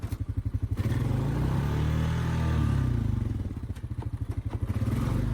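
An ATV or UTV engine chugs with a rough, pulsing idle while driving laps around a yard, holding steady and close with occasional throttle swells and clattering.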